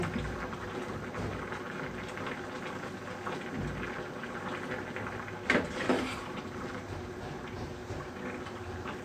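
Vegetables simmering in soup broth give a soft, continuous bubbling, with a couple of brief clatters near the middle.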